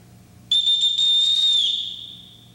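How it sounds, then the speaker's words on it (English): One long, shrill whistle blast used as a signal in a house, starting abruptly and holding steady for over a second before fading out. It sounds clear and close, and no one speaks over it. "Everyone in this house answers to a whistle."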